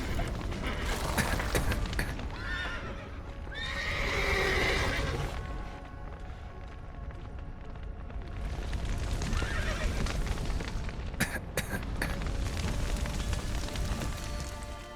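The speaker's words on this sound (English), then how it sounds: "The horses!" Horses neigh and hooves clop in The Witcher 3: Wild Hunt, with loud whinnies rising and falling amid trotting, creaking mechanisms and scattered game noise, and no talking.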